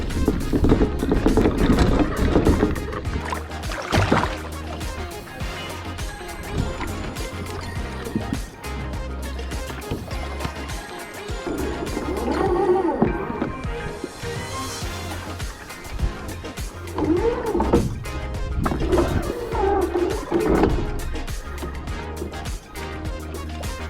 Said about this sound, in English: all I have to do now is wheel the boat down the ramp and into the water, and I'll be off rowing